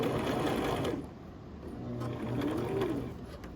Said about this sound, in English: I'm gonna hit this back pedal and go back to seal this in place so it doesn't open.